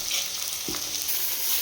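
Ingredients for a chicken dish fry in hot oil with a constant close sizzle, and a single scrape of a spoon stirring through the pan sounds partway through.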